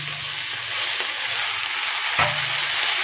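Spices and masala paste with salt, turmeric, cumin, coriander and chilli powder sizzle steadily while sautéed for a cabbage and spinach chorchori, a continuous close frying hiss with a couple of brief scrapes, no talking.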